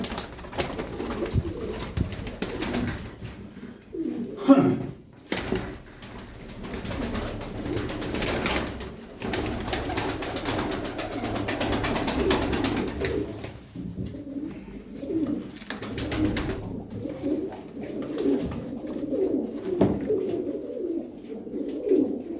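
Turkish tumbler pigeons coo in low, throaty rolling calls, several birds close by, repeating in overlapping bursts with brief quieter pauses and wing flutters.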